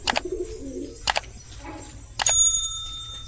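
Desi Giribaz pigeons bought at Beldanga market give a few brief, soft coos broken by sharp wing claps, and a bright, ringing bell-like tone lingers near the end.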